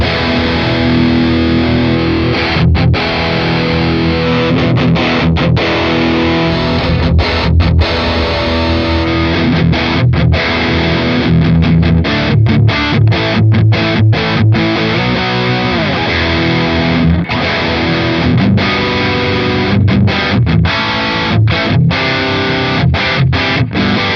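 Heavily distorted electric guitar through an amp simulator plays chords and riffs continuously, thick and saturated, with brief choppy gaps between some phrases.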